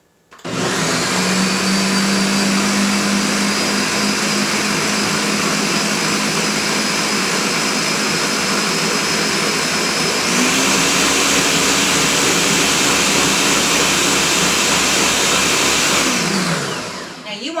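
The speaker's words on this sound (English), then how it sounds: "Once I plug in my blender." A blender pureeing a chickpea mixture for cake batter, a loud steady motor whir that starts abruptly and rises in pitch partway through before winding down at the end.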